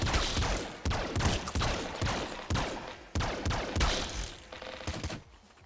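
Pop rifle fire in the video game Nuclear Throne: rapid bursts of sharp, punchy shots in a quick rhythmic cadence, loud and close, about seven short volleys over several seconds with no talking.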